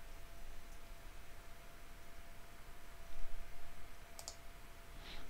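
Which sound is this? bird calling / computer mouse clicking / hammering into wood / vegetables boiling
computer mouse clicking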